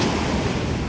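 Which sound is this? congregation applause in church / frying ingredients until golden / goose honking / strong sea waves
strong sea waves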